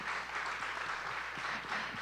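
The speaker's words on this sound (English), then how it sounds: "Can we give another round of applause?" An audience after a film screening and Q&A applauds filmmaker Matthew O. Henderson, a steady wash of clapping at moderate distance, soft and continuous with no voices.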